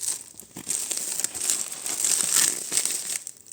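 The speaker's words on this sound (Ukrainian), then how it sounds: "такий великий пакет, який ми відкриваємо разом" A large plastic parcel of vintage jewellery is opened up close, giving continuous loud crinkling and rustling of plastic with short tearing surges, and no voices.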